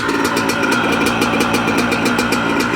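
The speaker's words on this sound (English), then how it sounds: "As you can see, bike starts first kick." A Yamaha YZ85 dirt bike engine idles steadily close by after a cold start, its rapid even putter with a knocking pulse running unbroken and loud throughout, no voices.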